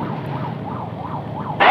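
A repeated rising-and-falling wail from an ambulance siren cuts through a traffic jam during a motorcycle escort, ending in a sudden loud burst of noise.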